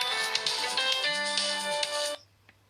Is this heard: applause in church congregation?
no